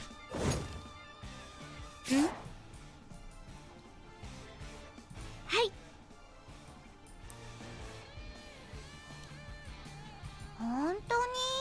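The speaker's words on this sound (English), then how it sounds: "Let's send Luna charging forward to attack the Nosterafu." Combat hits land in Langrisser M as Luna charges and Zerida uses attack skills on the Nosferatu: a few sharp thwacks and thuds spaced several seconds apart over steady game music.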